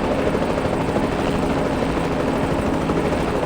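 Helicopter rotor thumping steadily while hovering in the video game Reverse: 1999, a loud continuous drone with no speech over it.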